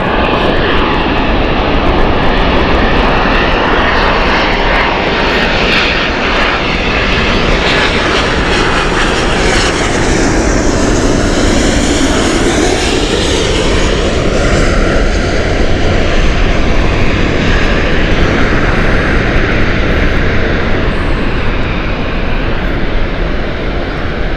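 A WestJet airliner taxiing at Gatwick Airport gives off a loud, continuous jet engine roar and whine that shifts slowly in tone, steady and fairly near for the whole stretch.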